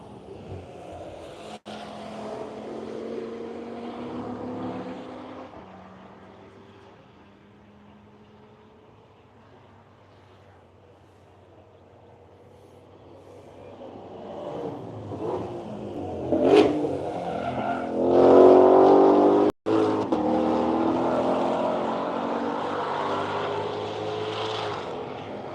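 A Porsche 911 Turbo race car rounds the final corner of a morning track lap at Hedge Hollow, engine note swelling from a distant drone to a loud, close roar as it passes and accelerates away.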